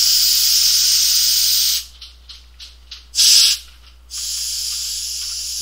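Liquid nitrogen sprays from a can into a bottle cap, a loud steady hiss that breaks into several short spurts and a brief burst before resuming continuously.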